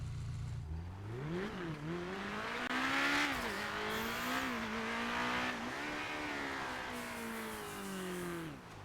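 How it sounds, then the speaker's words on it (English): A car engine in GTA5, sounding like a Honda S2000, revs up and down steadily for the whole stretch, loud and close, with pitch climbing and falling through repeated throttle blips and no talk over it. "it does actually sound like a S2000. And it's got the engine sound of it."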